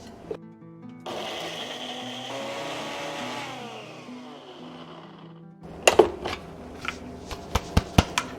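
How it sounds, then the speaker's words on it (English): A small kitchen blender whirs steadily through cooked, cooled shrimp, shredding them finely, its motor pitch shifting as the load changes, followed by a few sharp clicks and knocks near the end. "I'm gonna put my shrimp into this small blender, now that they're nice and cool"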